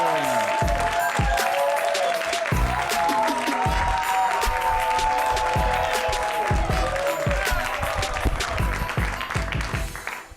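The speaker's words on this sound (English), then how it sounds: "a big round of applause for your host this evening" An audience at a Chicago comedy show welcomes the host with sustained, loud applause. Dense clapping mixes with cheers and whoops and stays strong before tapering at the very end.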